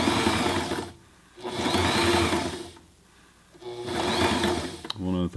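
A Sailrite Ultrafeed LSZ1 zigzag sewing machine stitching t-shirt fabric: three loud, steady mechanical runs of rapid needle chatter with short quiet gaps between, close up, ending with a brief voice.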